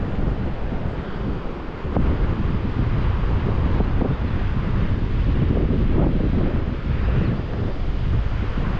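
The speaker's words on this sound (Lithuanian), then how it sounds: "O čia vėjelis dar pučia." Strong wind buffets the microphone continuously, a loud, rough roar that fills the whole stretch with no voices, on a mountain road beside a river.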